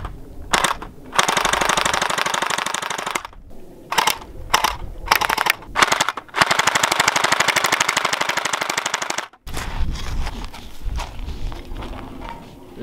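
SplatRBall SRB400-SUB gel blaster firing at a loaf of bread, long rapid full-auto bursts of sharp clacking shots broken by brief pauses and single shots, loud and close, then quieter handling noise at the end.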